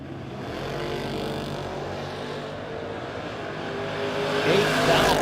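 Drag race cars, including a '66 Nova, roar down the strip in a no-box 660 shootout, a broad, distant engine drone that holds steady and then swells louder toward the end.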